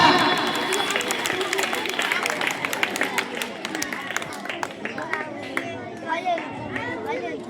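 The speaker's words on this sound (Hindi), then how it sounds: "दिव्या के लिए जोरदार तालियां।" At a school block-level debate competition, the audience applauds for the speaker Divya. Loud clapping and crowd chatter start together, then thin out into scattered claps and murmuring voices.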